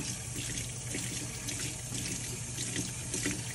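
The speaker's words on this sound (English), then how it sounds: "you're just going to splash water on the soap, have all the soap go down" Water pours steadily from a kitchen sink faucet, rinsing soap down the drain in a continuous, even rush that is close and unbroken throughout.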